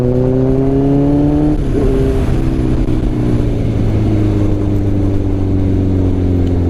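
A Honda CBR650F motorcycle engine hums loud and close while riding a mountain road, holding a steady drone that briefly dips around a gear change, then settles into an even, slowly falling pitch.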